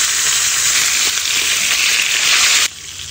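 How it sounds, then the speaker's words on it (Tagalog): Tilapia sizzling loudly in a pan of hot cooking oil, a dense, steady hiss and crackle that holds for nearly three seconds before dropping suddenly to a quieter sizzle. "Lagay na natin yung ating piprituhin."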